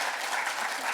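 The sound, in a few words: audience applause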